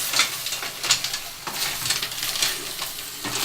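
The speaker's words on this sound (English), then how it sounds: "Give them a quick mix around, don't be tempted to mix too much" Mussels sizzle loudly in a very hot pan on full heat, with a bright continuous hiss and bursts of stirring and scraping up close.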